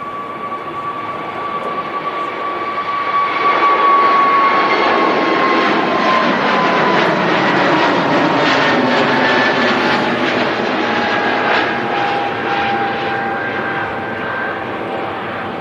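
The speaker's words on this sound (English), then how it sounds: "EasyJet A380 Neo now rolling down 2-3 right." An easyJet jet accelerates down runway 23 right, building from a whining engine tone to a loud, spreading roar of rushing thrust that holds steady, with falling whine tones sweeping through the sound.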